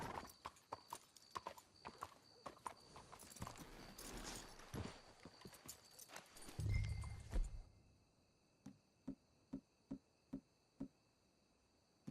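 Horses in Red Dead Redemption 2 clip-clop along at a walk, then one gives a loud whinny before the hoofbeats slow to sparse, evenly spaced steps on hard ground.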